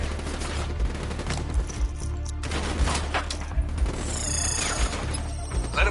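A swarm of incendiary nanobots unleashed as a firefly cyber ability in a combat video game, crackling and popping in dense, rapid bursts like gunfire over a continuous roaring wash, loud and close.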